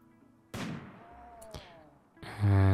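Gunfire in the colony-building video game Rimworld: a few sharp synthetic shots ring out with short decaying tails, separated by near-silence, the last burst louder.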